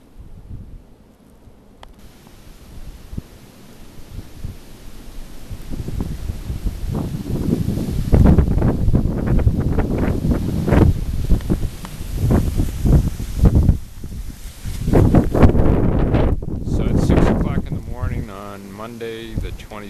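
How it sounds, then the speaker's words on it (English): Wind gusting through a snowstorm blizzard in Lowell, Massachusetts, a steady blustery roar with louder surges building through the middle, mixed with rustling and a voice speaking over it. "It's still snowing, and it's windy"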